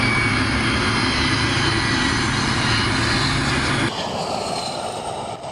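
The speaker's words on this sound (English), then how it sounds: "when the aircraft reaches a high altitude" Steady, loud drone of an aircraft engine in flight at high altitude, a continuous broadband roar that drops slightly in tone toward the end.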